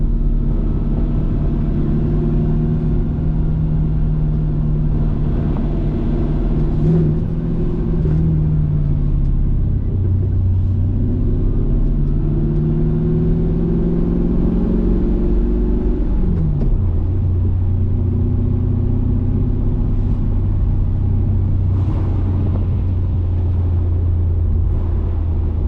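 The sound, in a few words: Mercedes C55 with M113 engine driving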